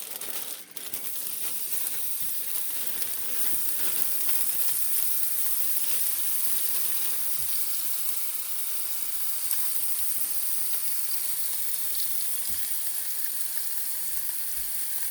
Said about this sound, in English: I'm going to go ahead and add the steak there